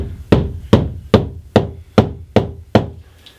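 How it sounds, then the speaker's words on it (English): A hand knocks along a plaster wall to find a stud: eight sharp, evenly spaced knocks, close and clear, with no talking. "trying to find that place where it stops going from that rattling plaster sound to where the stud is"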